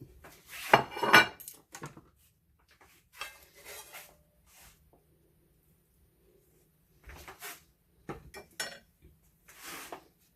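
A homemade chicken patty burger being moved onto a plate, heard as a few separate clinks and scrapes of plate and utensils in a quiet kitchen, with pauses between.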